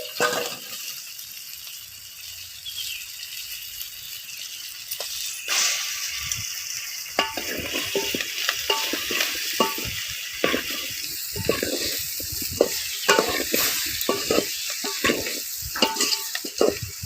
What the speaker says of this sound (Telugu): ఇప్పుడు ఇందులో బెండకాయ ముక్కలు వేసుకోండి,